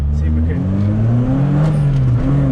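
A Metro GTI fitted with a Lotus Elise 160 VVC K-series engine accelerates hard, its loud close engine note climbing in pitch through the gears, and a voice can be heard speaking over it.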